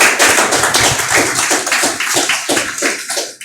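A close, loud round of applause from a small audience at a hosted talk-show event. The claps are distinct and rhythmic, and they slow into separate claps near the end.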